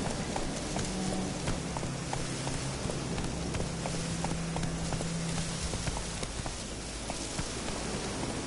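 Roach, the horse in Witcher 3, gallops at a steady quick rhythm of hoofbeats over a constant rumbling ambience, with a faint low tone through the middle of the run.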